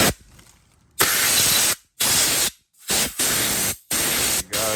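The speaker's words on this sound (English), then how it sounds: "the air compressor." Air compressor nozzle blasting air while cleaning a lawn mower, loud broadband hissing in several bursts of varying length separated by abrupt silences.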